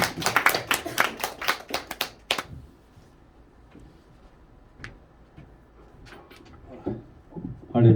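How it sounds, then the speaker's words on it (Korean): Audience in a church clapping to welcome a retired pastor before a Sunday Advent sermon, a burst of dense applause for about two seconds that quickly fades into quiet room tone with faint scattered taps. "우리 박수로 환영하도록 하겠습니다"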